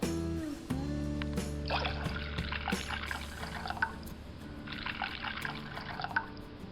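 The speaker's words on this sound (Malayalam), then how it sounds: "സോസ് പാനിൽ നമുക്കൊരു മൂന്ന് കപ്പ് പാലൊഴിക്കാം" Milk pours into a saucepan for a masala milk drink, a soft, close liquid trickle with light splashes and drips running under a low background hum.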